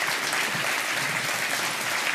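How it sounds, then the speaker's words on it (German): Sustained audience applause at a Swiss SRF health-program studio event, a dense steady wash of many hands clapping throughout with no talk over it. "Ganz, ganz herzlichen Dank und einen großen Applaus"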